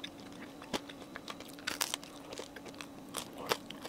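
Someone bites and chews a crisp fig and cinnamon bagel close to the mic, with sharp crunches and crackles at irregular moments between quieter chewing.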